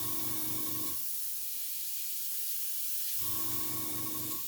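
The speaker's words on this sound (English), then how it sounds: "dry it, spray a bit, dry it, spray a bit" An airbrush sprays red paint through a stencil, hissing in a soft, steady spray for about two seconds, with a low mechanical hum before and after.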